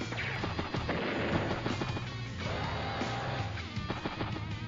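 Artillery fires in the Advance Wars: Days of Ruin video game, a dense flurry of booming blasts and crackling bursts packed close together at a fairly even volume, with no voices.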